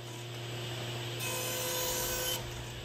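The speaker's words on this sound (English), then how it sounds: "Then I'm going to cut the width on the table saw." A table saw ripping a sheet of plywood to width in a workshop, with a steady motor hum that rises into a louder, sustained cutting whine for about a second before easing back to the idle drone.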